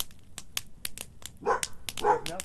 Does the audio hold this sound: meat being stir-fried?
no